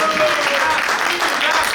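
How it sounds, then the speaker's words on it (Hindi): A crowd at a Diwali celebration applauds a bhangra dance group, a dense, steady wash of clapping that runs the whole time while a voice talks over it. "जोरदार तालियां हैं ग्रुप के लिए"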